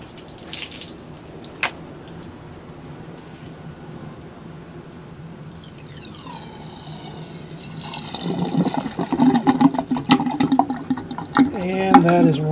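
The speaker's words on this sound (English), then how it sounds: "let's do a drain test on the sink" Water running and draining from an outdoor patio sink, a faint trickle at first that swells into a louder, steady gurgling flow toward the end.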